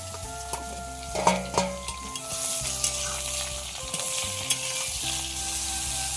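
Ridge gourd tipped into hot oil tempered with dried red chilli and nigella seeds, a loud close sizzle that surges on contact, with stirring clatter and scraping and occasional sharp knocks.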